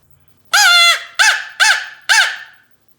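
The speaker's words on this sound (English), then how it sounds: "I make quite a few crow calls out of limbs from a maple tree." A handmade crow call carved from a maple limb is blown in four loud, close, raspy caws: one long drawn note followed by three shorter, evenly spaced ones, alone without talk.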